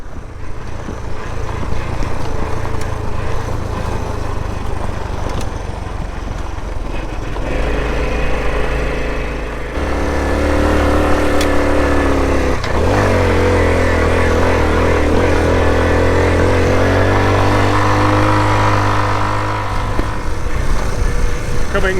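A Honda CT110 Trail motorcycle engine runs steadily while riding a byway near Marlborough, loud and close, its pitch rising and falling with gear changes and throttle.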